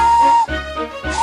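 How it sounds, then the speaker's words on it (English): A steam engine's whistle sounds loud and clear in two sustained blasts with a brief break between, a bright steady tone over a soft hiss of steam. "Everyone knew that whistle"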